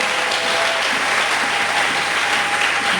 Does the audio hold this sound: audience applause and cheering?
yes